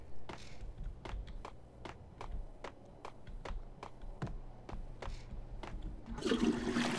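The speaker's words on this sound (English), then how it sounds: "Oh, look at that. You can flush, huh?" A toilet flushes in the video game Max Payne: a rushing, gurgling stream of water with sharp clicks and knocks punctuating it, ending in a louder surge of draining water.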